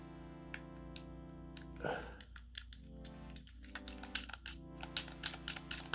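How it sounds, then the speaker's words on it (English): Clacky face buttons on a Nyko Prime Switch controller get pressed, producing a quick run of light plastic clicks that grows denser and sharper, following a brief rustle, over a low steady hum. "Clacky buttons."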